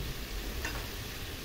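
Ground beef and seasonings sauté for chili in a pan as tomato paste is stirred in, giving a steady, soft sizzle with a faint scrape midway.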